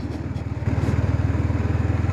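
A Yamaha MT-15 150cc motorcycle engine is heard while riding, with a steady, rapidly pulsing mid-pitched drone that holds close and loud throughout.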